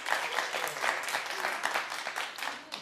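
A television talk-show studio audience claps in scattered, uneven bursts for about three seconds, moderately loud with faint voices mixed in.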